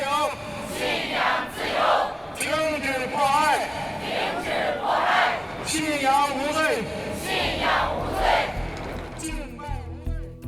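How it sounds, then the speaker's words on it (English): A crowd at a religious-freedom rally in the Netherlands chants slogans in unison, repeated rhythmic phrases rising and falling in waves, moderately distant and steady. "the crowd chanted slogans in unison"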